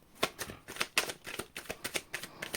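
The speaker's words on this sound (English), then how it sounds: "last shuffle" Tarot cards being shuffled by hand, a close series of quick riffling bursts and soft slaps in an uneven rhythm, with no speech.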